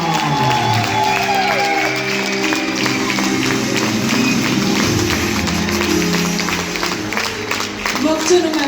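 Audience applause fills a hall to welcome a dance company's founding director, steady dense clapping sustained throughout, with a voice speaking over it and a few taps and cheers.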